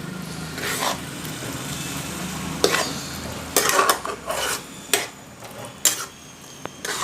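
A spoon stirs mushroom kulambu with coriander leaves in a metal pot, with loud clanking scrapes and knocks against the rim over a faint background sizzle.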